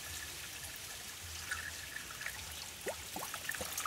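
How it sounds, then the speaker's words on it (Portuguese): Lake water trickling and pouring into a 20-liter jug, a faint, steady liquid flow with small splashes and drips close by, no voices. "Então eu vou completar o galão aqui, que é um galão de 20 litros, com a água do lago."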